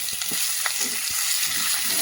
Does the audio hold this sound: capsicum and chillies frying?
yes